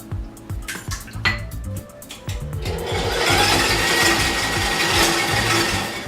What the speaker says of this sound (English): And we're going to mix all these together until they're light and fluffy.